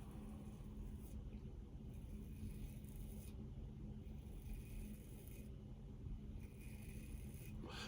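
Quiet, close scraping strokes from an aluminium PAA Starling safety razor come in repeated passes over the skin, with a faint low background hum between them.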